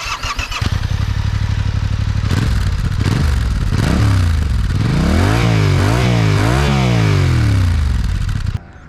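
A Yamaha R7 motorcycle engine cranks, catches and roars to life up close, then is revved hard several times with rising and falling sweeps before settling.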